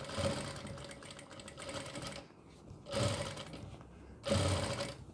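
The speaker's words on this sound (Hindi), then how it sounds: "अब इस पर हम पक्की करने के लिए एक सिलाई और लगा देंगे" Sewing machine stitching an Islamic cap (topi) runs in three bursts of rapid mechanical whirring, separated by short quiet pauses, close and steady.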